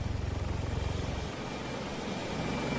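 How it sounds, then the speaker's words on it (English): A Blackfoot helicopter close by in a video game, its rotor thumping in fast regular pulses that fade into a steady engine whine, loud and without talk. "We got a chopper right behind me."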